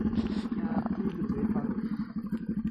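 A motorcycle engine labouring along a rough, difficult road, a close, low, pulsing drone with a steady throb and some clatter, heard alone without talk.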